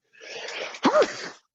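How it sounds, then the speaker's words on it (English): One sharp sneeze bursts out near the end of a short breathy intake, close and clear, with no talking. "Trying to finish my sentence before I sneeze."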